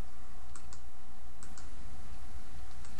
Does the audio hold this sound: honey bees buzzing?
no